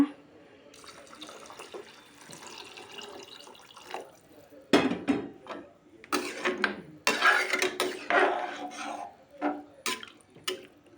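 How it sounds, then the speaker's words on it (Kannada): Water is poured into a pot of chickpea pulao in irregular splashing bursts, with clinks and bumps over a quiet background. "ಉಪ್ಪು ಹಾಕಿ ಈಗ ನೀರು ಹಾಕೋಣ."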